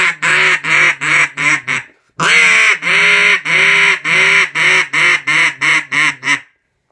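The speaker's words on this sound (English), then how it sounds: "Then the final call is a comeback call." A duck call blown hard in a comeback sequence: a loud burst of rapid, evenly spaced quacks, a short gap, then a longer run of strong nasal quacks that slows slightly before stopping, with no talk.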